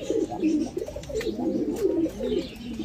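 A female pigeon coos close by in a soft, repeated rolling rhythm, several low throaty phrases following one another with no talk over them.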